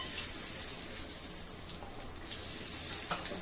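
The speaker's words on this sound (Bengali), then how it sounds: "তেলটা গরম হয়ে গিয়েছে প্রথমেই আমি ফোড়ন দেব গোটা গরম মশলা" Whole garam masala dropped into hot oil left over from frying rui fish, giving a continuous close, hissing sizzle that holds steady throughout with no voices.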